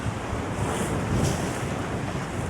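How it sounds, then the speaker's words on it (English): Ocean surf rolling in and breaking on the beach at Point Judith at low tide, a steady broadband wash with wind noise on the microphone, swelling into a crash midway through, with no voices. "Watch this wave crash."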